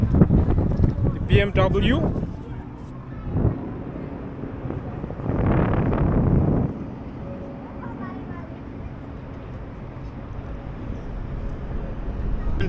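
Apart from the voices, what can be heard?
wind blowing on the microphone outdoors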